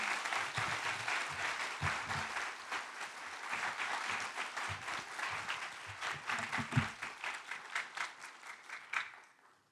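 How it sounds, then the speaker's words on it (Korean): An audience claps steadily to welcome a missionary speaker at a Sunday church worship service, a dense sustained round of applause that fades out near the end. "我们用掌声欢迎他"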